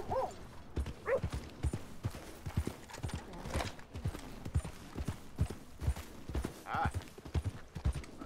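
Horse hooves clip-clop along a road in the Western video game Red Dead Redemption 2, a steady rhythmic plodding close by, with a voice talking over parts of it and a brief whinny-like sound.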